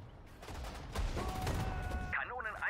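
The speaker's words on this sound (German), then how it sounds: "Kanonen einsatzbereit. Feuert aus allen Rohren!" Cannons fire in the World War II strategy game Sudden Strike 4, with several blasts and rattling shots cracking through a steady din of battle before a voice speaks at the end.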